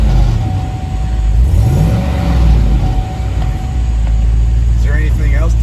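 A 2007 Chevy Tahoe's engine catches and settles into a steady low idle, loud and close, with a voice talking briefly over the running engine near the end.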